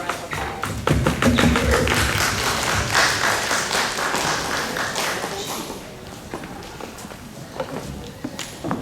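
Scattered clapping and footsteps patter unevenly, a modest burst of applause that thins out over several seconds as the room quiets.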